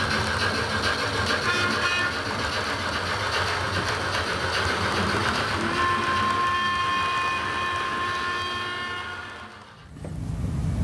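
A digital sound model steam locomotive plays a sustained whistle tone over chuffing and the hiss of drain cocks, holding loud and steady before cutting off abruptly near the end.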